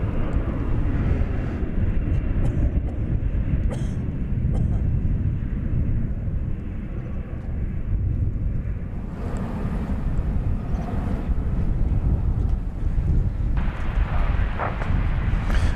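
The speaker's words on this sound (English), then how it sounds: "This is arriving from Chicago Rockford International Airport, flight 2750." An airliner on flight 2750 from Chicago Rockford arrives at DFW Airport with a loud, continuous low engine roar that swells and shifts as it passes nearby.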